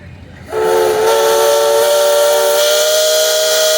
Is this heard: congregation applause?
no